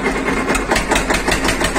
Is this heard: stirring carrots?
no